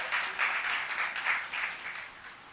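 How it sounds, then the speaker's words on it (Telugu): A church congregation at a Sunday service claps together. The brisk, dense applause sounds a little distant and tapers off toward the end. "గట్టిగా చప్పట్లు కొడదాం, పరలోకానికి."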